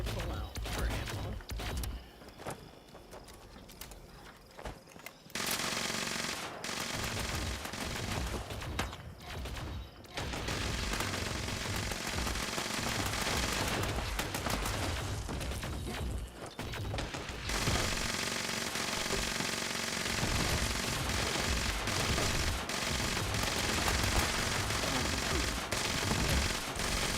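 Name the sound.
laser rifle firing in video game Fallout 76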